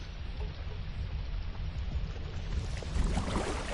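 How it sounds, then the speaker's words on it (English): Rain in the video game Conan Exiles, a steady hiss of falling rain across a jungle area with a low rumbling bed beneath, swelling slightly toward the end, no voices. "Plus, I like the sound of the rain. The rain is pretty."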